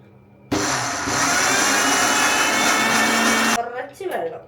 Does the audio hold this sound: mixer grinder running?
yes